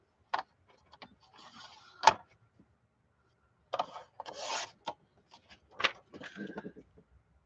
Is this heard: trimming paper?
yes